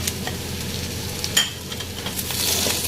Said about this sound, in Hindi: और इन सब चीज़ों को भी हमें दोबारा अच्छी तरह से मिक्स करना है।